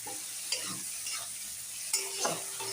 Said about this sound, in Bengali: এটা দিয়েও একটু নাড়তে থাকবো যতক্ষণ না একটু গলে।